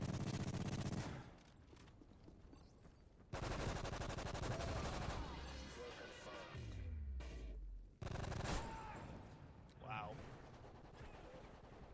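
Rapid automatic gunfire and repeated bursts of shots in the Modern Warfare 3 video game, loud and close, with short pauses between volleys and speech mixed in.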